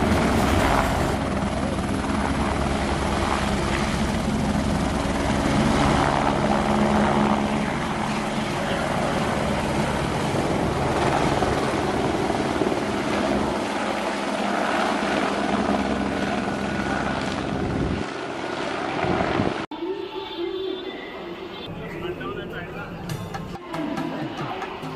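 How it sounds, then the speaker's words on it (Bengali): Helicopter flying toward Kedarnath, a loud continuous rotor and engine drone that holds steady for most of the stretch before cutting away to a quieter, rougher background near the end. "আর সব থেকে দ্রুত এখানে পৌঁছানোর একমাত্র উপায় এই হেলিকপ্টার।"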